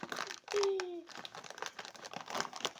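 Plastic wrapper crinkles and rustles as a paprika snack packet is opened, with brief close handling noises in quick bursts.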